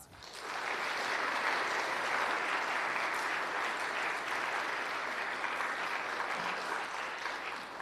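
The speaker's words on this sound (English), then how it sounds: "Please give these students a round of applause." Sustained applause from a crowd at a school awards ceremony, steady and full for several seconds before tapering slightly at the end.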